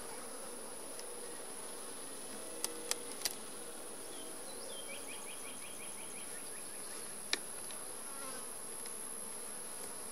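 Honey bees hum steadily around an open hive during an inspection, a dense continuous drone with insects flying close by, a few sharp clicks and knocks of equipment, and brief rapid ticking partway through.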